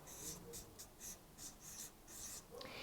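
Chalk or marker strokes on a classroom board, a series of short scratchy bursts in an uneven rhythm, close and fairly clear, with no talking.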